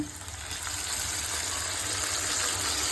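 Squeezed tamarind is added to a pan of fried garlic, onion, green chillies and curry leaves for an instant curry sambar, bringing a loud, continuous, close sizzling hiss that swells after the first half second.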